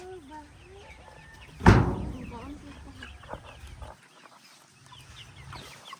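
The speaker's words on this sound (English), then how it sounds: "Look at that big chicken right there." Chickens cluck softly in short scattered calls at a farmyard, with a sudden loud burst near the start and people talking nearby.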